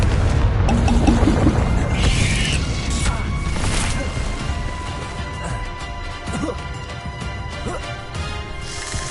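A Confringo blasting spell in the video game Hogwarts Legacy, a loud crashing explosion at the start that rumbles and slowly decays over several seconds, with smaller impacts and game effects following.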